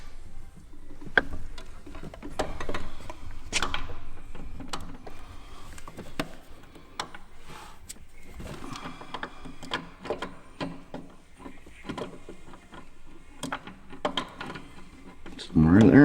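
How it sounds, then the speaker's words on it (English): An aircraft magneto is slid into place on the engine, its gears meshing with light, intermittent metallic clicks and knocks, close up, while someone talks quietly between the sounds. "Just trying to get the gears to mesh there."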